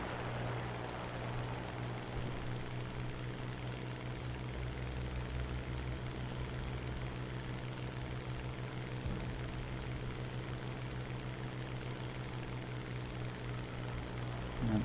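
A Hurricane fighter plane in a flight video game makes a continuous low, droning propeller-engine hum that stays steady and fairly faint throughout, with no talk.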